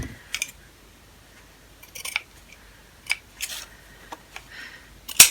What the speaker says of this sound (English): These scissors are probably a little bit too big for that job.